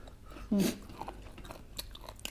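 Someone chews giant squid papaya salad up close, with crunchy bites and a loud crackle early on, then softer mouth sounds and faint murmured speech.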